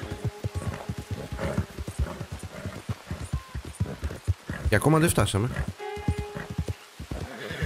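A horse in the Western game Red Dead Redemption 2 gallops with a rapid, steady clatter of hooves, joined midway by a loud neigh, while someone talks over it.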